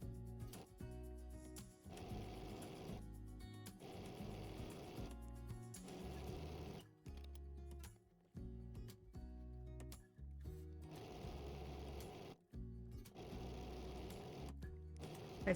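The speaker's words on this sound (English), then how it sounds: "So I am just gonna sew them together." A sewing machine stitches long fabric scrap strips together, its needle whirring steadily in several runs broken by brief stops, close and alone in a quiet quilting studio.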